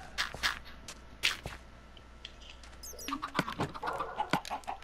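Minecraft chickens on a chicken farm, scattered soft clucks and sharp clicky steps spread unevenly across several seconds, quiet and close, with no talking.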